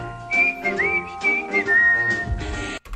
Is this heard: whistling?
yes